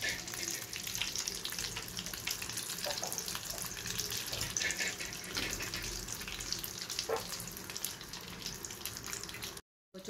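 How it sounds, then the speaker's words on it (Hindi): Chicken half moon pies frying in oil until golden brown, a dense, steady hiss and sizzle heard up close for about nine seconds before cutting off abruptly. "दोनों तरफ से हमें इसे गोल्डन ब्राउन होने तक फ्राई करना है।"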